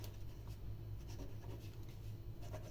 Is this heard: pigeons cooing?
no